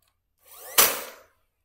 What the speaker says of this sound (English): Why use a screw when you have this brad nailer here?